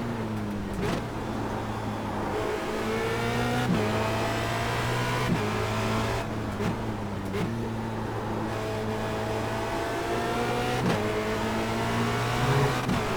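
A Formula Renault 2.0 race car engine at Zandvoort drones steadily from onboard, revving and easing with repeated brief throttle lifts and gear shifts in an uneven rhythm.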